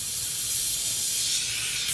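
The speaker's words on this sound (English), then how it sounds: "you get something that's flammable and highly explosive, and you spray that inside the tire" Flammable aerosol spray is blasted inside a tractor tire, giving a steady, close, loud hiss that runs unbroken for about two seconds with no talking over it.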